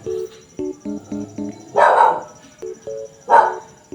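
A dog barks loudly twice between short, tonal electronic beeps in a crafting game, close up with no talking.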